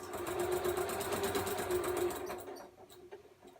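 A sewing machine stitches binding along the edge of a quilt, a fast, even mechanical whir that runs close and steady for about two seconds and then slows to a stop.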